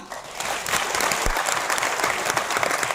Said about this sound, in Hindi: धर्मशिला मैम और सुरेंद्र सर के लिए एक बार जोरदार तालियां